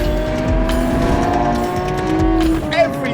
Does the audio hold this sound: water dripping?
no